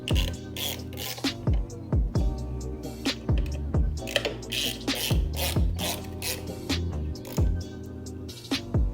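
Ratchet wrench snugging down bolts on a Harley-Davidson clutch cover, a Trask power plate install, with rapid clicking pawl bursts repeating in a steady rhythm, close and loud with no talking.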